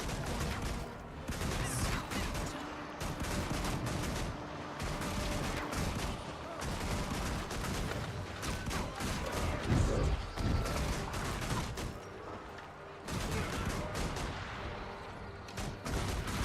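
Rapid pistol gunfire in the video game Guild Wars 2, dense bursts of shots layered with loud game combat effects, continuous and busy throughout with brief dips.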